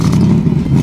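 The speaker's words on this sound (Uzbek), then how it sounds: "Ovozi filtrlanmagan va har aylanishda haqiqiy vahshiy V8 nima ekanini sizga ko'rsatib qo'yadi" Ford Mustang GT V8 revving hard nearby, a loud, dense low rumble that holds steady with slight surging through the whole short burst.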